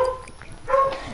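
Dog barking in the Fortnite video game, two short yelping barks close together, moderately loud over a low game background.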